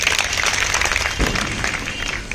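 An audience at a happiness programme session applauds, with dense, sustained clapping from many hands that stays steady throughout.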